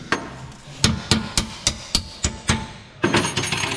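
A hammer taps on the front lower arm ball joint of a 2016 Nissan Qashqai, about eight evenly spaced sharp metallic knocks, close and loud, followed by a brief rattling scrape.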